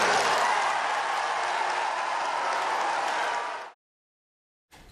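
Applause from a vice presidential debate audience after a famous line, a dense, loud wash of clapping and crowd noise sustained for several seconds before cutting off abruptly into silence.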